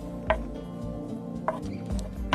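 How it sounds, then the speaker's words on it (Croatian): A knife chops an onion lengthwise on a board, giving about four distinct, sharp strikes spaced unevenly over a low background hum. "kapulu rizano"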